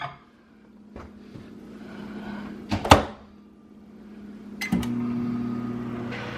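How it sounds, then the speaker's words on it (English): A kitchen microwave oven hums steadily while heating an oat breakfast with peanut butter and maple syrup, with a few clicks and clunks of the door and buttons around the low, continuous drone. "So I'm just gonna heat that up in the microwave"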